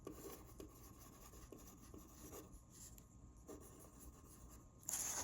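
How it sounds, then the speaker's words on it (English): A pencil writing a name on paper, soft intermittent scratching strokes close up in a quiet room, with a brief louder rustle near the end. "First step, put your name on your paper."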